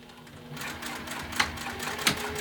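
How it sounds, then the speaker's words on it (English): Sewing machine stitching a clear vinyl travel pouch, a steady close mechanical whir with two sharper clacks partway through, no talking. "So I'm going to clip this and sew this together"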